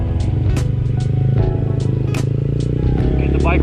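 A Honda Grom motorcycle engine idles steadily while warming up, a close, continuous low rumble with a faint rhythmic chug that stays level throughout, while a person talks over it.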